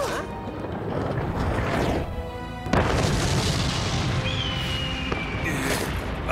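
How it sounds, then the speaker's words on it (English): A cannon fires in an animated cartoon with a loud, booming blast partway through, followed by a crashing rumble, and a rising whistle-like tone near the end. "Second cannon! Fire!"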